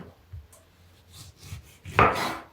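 Knife slices through an orange on a cutting board during salad prep: a few soft, scattered cutting sounds, then one firmer, louder chop-and-scrape near the end, close up and without talk.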